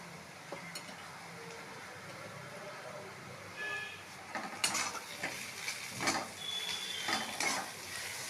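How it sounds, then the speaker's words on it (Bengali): Ginger sizzles softly in a pan while a utensil stirs and scrapes, with a few clinks of metal against the cookware. "আদা দিয়ে আদাটাকে ভালো করে ভাজা হবে"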